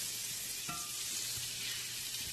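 Butter melting in a hot pan gives a steady, close sizzle and fry hiss with a couple of soft utensil taps.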